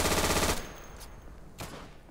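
Gunfire in the World War II shooter Day of Infamy, a dense, loud burst of rapid automatic fire that cuts off abruptly, followed by a quieter stretch with a single fainter distant shot.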